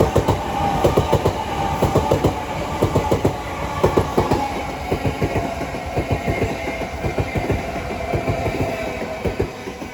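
A Southeastern Class 376 electric train rolls through New Cross station with a loud, steady rumble and regular clickety-clack of wheels over rail joints, close by and continuous throughout.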